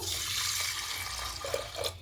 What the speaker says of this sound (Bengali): এবার জল নিয়ে নেবো